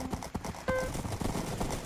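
Horses clip-clopping at a gallop in a Minecraft horse racing party game, a steady dense run of hoof beats with a brief tonal game chime partway through, mixed with faint background voices.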